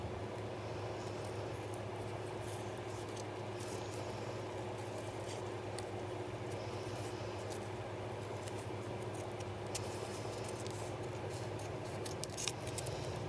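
Scissors trimming the edges of homemade washi tape from the back side, faint snips over a steady low hum with a few small clicks near the end.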